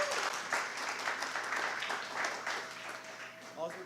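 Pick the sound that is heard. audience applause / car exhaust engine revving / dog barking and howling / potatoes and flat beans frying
audience applause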